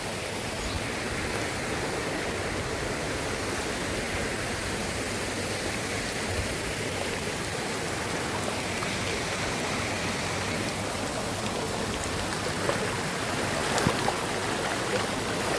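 Continuous broadband rush of a waterfall flowing down steps on farmland, steady and fairly loud throughout, with no voices.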